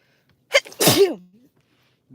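A single sharp human sneeze, close and clear, outdoors while fishing, with a short breathy intake before it and quiet all around.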